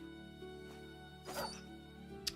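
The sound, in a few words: dog barking in a video game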